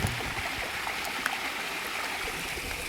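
Flowing stream water rushes steadily and continuously at close range, a full, even wash of sound with no voices over it.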